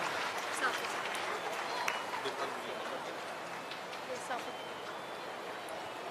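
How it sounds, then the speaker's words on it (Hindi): Audience applause at a civic ceremony in Jodhpur, a steady wash of many hands clapping at moderate distance, fairly even and sustained with a few sharper claps. "जोरदार तालियां यहां आप दे दीजिए।"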